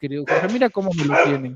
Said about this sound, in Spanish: Sí, perdón por los perros